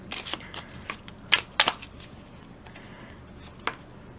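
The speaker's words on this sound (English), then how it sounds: "I want to try how to shuffle them." Stiff new mini tarot cards from an inexpensive haul being shuffled by hand, giving a few quick riffling bursts and soft card flutters at close range, with no talking.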